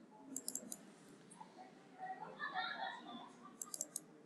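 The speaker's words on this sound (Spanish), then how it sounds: "Voy a ponerle doble clic." Computer mouse clicked in quick double-click bursts, once near the start and again near the end, crisp and close, with soft speech in between.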